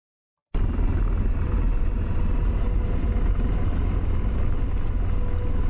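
An AH-64 Apache helicopter idles in the DCS combat flight simulator, a steady, loud broadband engine and rotor rumble holding unchanged after a sudden start, with no talk over it.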